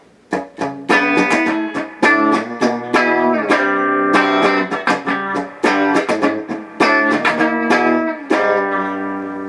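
An electric guitar played through an amplifier, loud and close, with a run of plucked notes and strummed chords ringing with sustained harmonics and slight distortion, in an uneven rhythm with short pauses.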